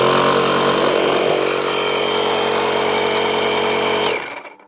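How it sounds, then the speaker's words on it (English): A 12 volt air compressor runs powered through a cigarette lighter plug adapter, a loud steady buzzing motor drone heard close up, winding down and cutting off near the end. "Well, the compressor works."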